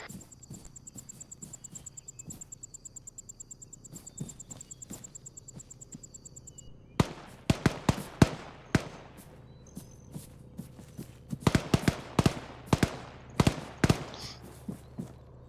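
Distant gunfire in the military shooter ArmA 3, with scattered sharp cracks and short bursts popping at irregular intervals over a steady insect-like chirping background.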